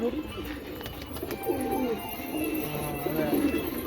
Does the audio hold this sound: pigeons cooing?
yes